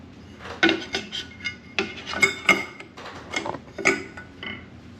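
Ceiling fan screws being worked loose and removed with a magnetic screwdriver, giving a series of close, light metallic clicks and ticks in an irregular rhythm, with no talking.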